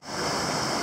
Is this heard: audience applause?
no